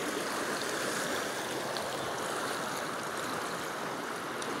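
A river swollen by floodwater after a typhoon rushes past in a dense, constant roar of churning water, loud and unbroken with no voices.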